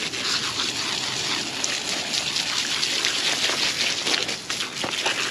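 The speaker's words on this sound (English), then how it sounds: "so we just got the hose. Just gonna give his legs a quick wash." Water from a garden hose spraying onto a horse's muddy legs in a yard, a steady hissing splatter running continuously and fairly close, with a brief dip near the end.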